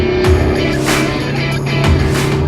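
An Alfa Romeo Giulietta Veloce with a 1.8 TBi 16V 240 hp engine and dual clutch transmission drives through countryside, its engine a steady loud hum with slight rises and a couple of brief shifts, no voices.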